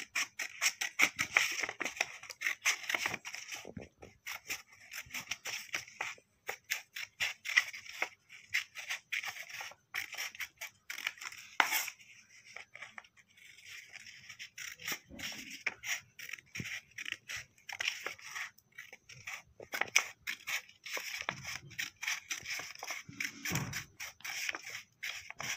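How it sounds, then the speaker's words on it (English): Scissors cutting paper to make a paper rose, a long run of quick, crisp snips and faint scraping close by, in irregular clusters with brief gaps and no voices. "Like this we have to cut it."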